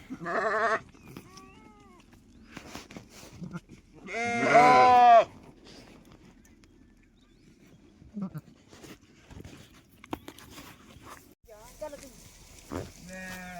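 Livestock call out close by: a loud, drawn-out bleat, then scattered quieter bleats and calls amid shuffling and background noise.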